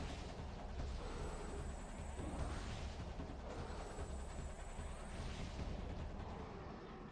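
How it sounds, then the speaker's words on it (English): Charge shots from Samus's arm cannon in Metroid Prime 2: Echoes, heard as three charged blasts, each with a rising whine and a booming burst, over steady rumbling game sound. "3 charge shots."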